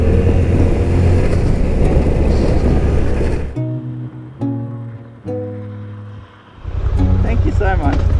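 A Suzuki V-Strom 800DE motorcycle engine drones loudly while climbing a road, with heavy wind rush that drops away into clearer tonal engine notes as it shifts, then returns.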